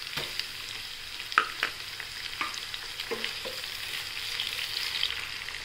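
Onion and tomato sautéing in a pan for a mixed vegetable puffed rice snack, with a steady close sizzle broken by a few sharp spatula scrapes and taps.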